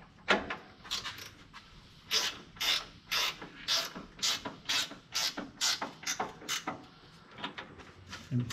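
A ratchet wrench clicks in short repeated strokes while torquing a skid plate bolt on a Toyota Land Cruiser LC200, close and crisp, a regular series of ratcheting bursts with brief pauses between pulls.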